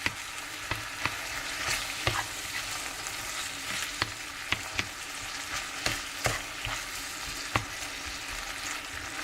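Bolognese sauce with a reduced amount of liquid cooks in a pan, giving a steady close sizzle and bubbling broken by occasional sharp clicks of a utensil stirring or scraping.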